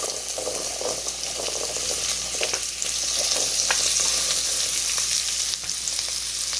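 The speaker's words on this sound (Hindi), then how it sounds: "और ये साबुत ज़ीरा है आधा टीस्पून, इसे डाल के हम फ्राई करेंगे।" Whole cumin seeds and boiled chickpeas fry in a hot pan for papri chaat, giving a steady, close, continuous sizzle and crackle with faint stirring and no voices.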